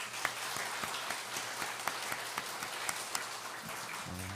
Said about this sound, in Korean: 우리 잘하고 있다고 박수 한번 치겠습니다